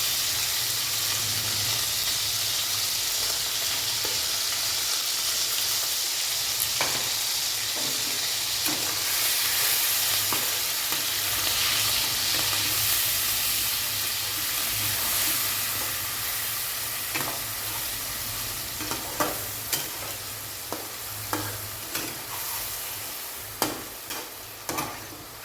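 Ground spice paste for a fish curry (macher jhal) fries in a pan with a loud, constant hissing sizzle. Occasional scrapes and taps of the stirring spoon become more frequent toward the end, all close and without speech.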